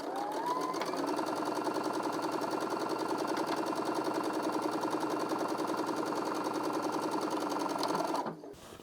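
A sewing machine stitches a fabric seam with a 1/2 inch seam allowance, running as a steady, loud, continuous mechanical whir close by for about eight seconds and then stopping abruptly.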